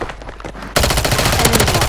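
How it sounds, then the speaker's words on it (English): Automatic gunfire in a Call of Duty match erupts loudly after a quieter opening of scattered shots, rapid continuous bursts filling the rest of the moment. "Taking fire."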